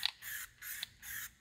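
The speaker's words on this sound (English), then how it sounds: "I'm gonna concentrate the spray right in the middle here where our damaged area is" A spray paint rattle can fitted with a trigger gun attachment hisses in three short, even bursts with brief pauses and clicks between them, close up and fairly quiet, on damaged bodywork of a V8 manual E39 BMW.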